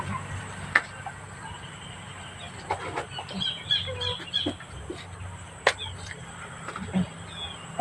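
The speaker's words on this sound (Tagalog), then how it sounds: "Nakita mo itong mga manok ko, oh." Backyard chickens cluck in short, scattered bursts over a steady ambient hum, with a few sharper calls standing out and no one speaking.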